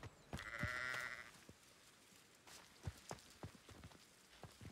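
A sheep in Hogwarts Legacy gives one clear, drawn-out bleat near the start, followed by scattered soft clicks and footstep-like taps, fairly quiet with no talk over it.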